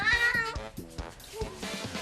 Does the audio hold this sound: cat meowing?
yes